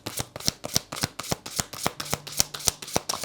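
Tarot cards are shuffled close up in a brisk, regular rhythm of sharp slaps and flutters, evenly spaced and clear, with no one talking.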